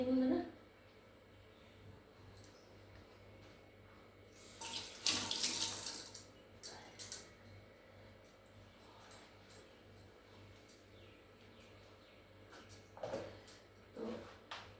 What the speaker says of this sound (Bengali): হাতটা একটু ধুয়ে নিই বন্ধুরা।